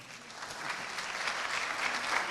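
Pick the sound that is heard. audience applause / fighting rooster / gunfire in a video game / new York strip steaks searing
audience applause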